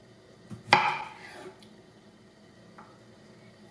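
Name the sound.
chopping zucchini into large pieces with a knife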